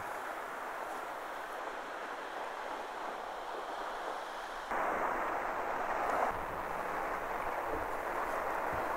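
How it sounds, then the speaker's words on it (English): Long-period northern waves roll and wash along the Moray coast of Scotland, a soft, continuous surf hiss with light wind, swelling slightly louder partway through. "these long-period northern latitude waves exert a powerful hold on my gaze as they ebb and flow across these stunning Moray landscapes"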